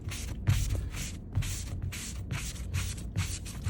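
Scrubbing a stain with a Mr. Clean Magic Eraser: steady, close rubbing strokes repeat roughly twice a second in a brisk back-and-forth rhythm, each stroke a soft, gritty swish, with no talk.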